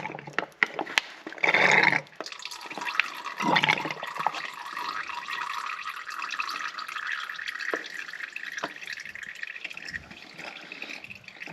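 Fluid splashes and trickles as it drains from a Polaris RZR front differential, with a loud gush near the start, a second burst, then a steady faint running flow with occasional drips.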